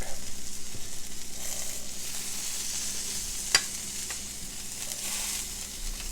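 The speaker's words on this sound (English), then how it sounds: "I'm going to get those fried and then I'm just going to flip them over" Food sizzles and spatters in a frying pan for Appalachian breakfast hamburger patties, a continuous crackling hiss with one sharp pop midway, no voices.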